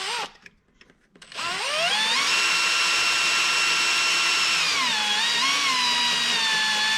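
A power drill bores a 3/8 inch hole during assembly of an Airmar TM165/P66 transducer, its loud steady whine rising in pitch after a brief pause, then holding a sustained high motor tone with small pitch dips near the end.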